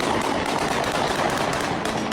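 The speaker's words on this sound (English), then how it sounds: "Do you all set off fireworks like every single night of the year here?" Dense, continuous crackling fireworks bursting at night in London, a rapid rattling barrage with no gaps, fairly loud and distant-sounding.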